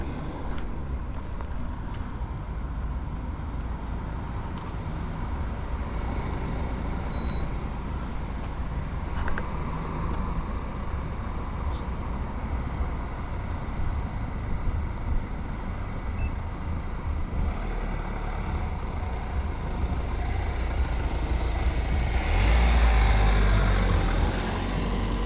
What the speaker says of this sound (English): Just wait for these cars to go in.